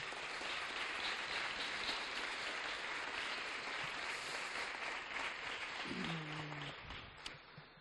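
Audience applause at an evening cultural event in Mora, a steady broadband patter of many hands clapping that holds at an even level throughout, with a faint voice near the end.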